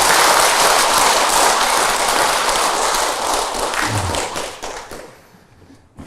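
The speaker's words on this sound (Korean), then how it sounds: "우리 부처님 빨리 일어설 수 있도록 큰 박수 한번" Sustained applause from a crowd at a Buddhist dharma gathering, loud and dense clapping that fills most of the span before thinning and fading near the end.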